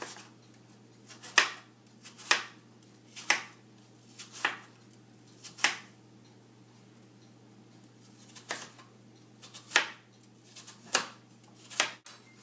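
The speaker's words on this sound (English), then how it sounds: "Now we are going to cut it into medium thick slices." Knife cutting peeled, cored apples into medium-thick slices for a caramel apple pie, a series of crisp separate chops spaced about a second apart with short pauses, close and fairly quiet.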